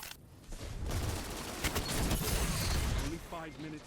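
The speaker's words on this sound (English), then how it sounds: "Shot from every different direction." Gunfire from every direction in a Destiny 2 Deep Stone Crypt fight, a dense continuous barrage of shots and blasts filling the whole moment, with a voice speaking near the end.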